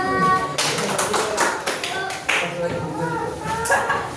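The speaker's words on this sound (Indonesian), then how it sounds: "Silakan beri tepuk tangan untuk kelompok 3." A classroom of students claps for a student group, the scattered hand claps coming in uneven bursts at close range with voices mixed in.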